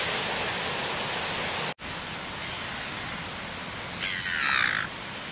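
Crow-like birds caw in a short burst of harsh calls near a penguin path, over a steady rushing background of wind or water.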